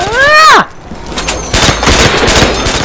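Gunfire and an explosion in the Call of Duty: World at War zombies mode, a loud descending blast followed by rapid bursts of shots and clattering impacts, close and dense.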